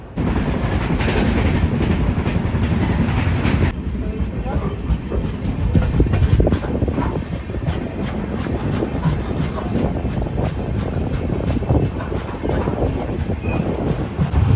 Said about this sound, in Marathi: आणि आता आपण वाट बघतो आहे आपल्या ट्रेनची